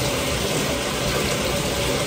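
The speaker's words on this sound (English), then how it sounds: "I'm running a hot shower" Hot shower water running in a home bathroom, a steady, broadband hiss and spatter that stays constant and close for the whole moment with no voices.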